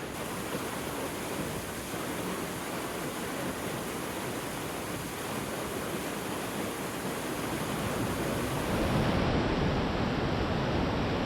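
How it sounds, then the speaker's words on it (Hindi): The Pushpawati River, flowing fast near Ghangaria, gives off a loud, steady roar of rushing water close by that never lets up and grows slightly stronger toward the end. "ये नदी घांघरिया में प्रवेश करने से पहले काफी ज्यादा शोर करती है और यहां इसका बहाव भी काफी तीव्र हो जाता है।"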